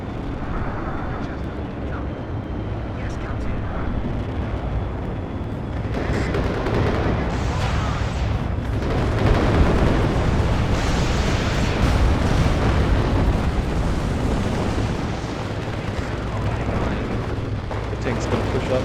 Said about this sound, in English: So this is the tank looking around, waiting for the airstrike to come in.